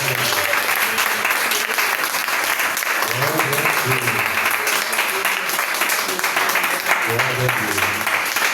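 A church congregation at a Sunday communion service applauds, sustained loud clapping filling the hall, with voices and low murmurs mixed in.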